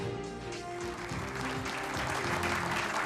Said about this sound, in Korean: 우리 육군 포병에게 힘찬 격려의 박수 부탁드립니다